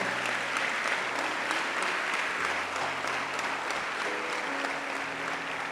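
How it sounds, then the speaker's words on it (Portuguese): A congregation at a church conference applauds, producing a dense, sustained wash of clapping that holds steady throughout, with faint tonal sounds beneath it. "Pode aplaudir o Senhor."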